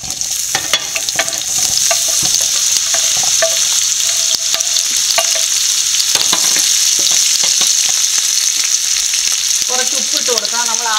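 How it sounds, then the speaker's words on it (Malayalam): Onions and green chillies fry in hot oil in a pan for poori masala, a loud continuous sizzle with frequent scraping stirs of a spoon against the pan, close up and with no talking. "ഇത് ബ്രൗൺ ആവുന്ന സമയത്ത് പച്ചമുളകും സവോളയും കൂടി ഇട്ട് കൊടുക്കാം."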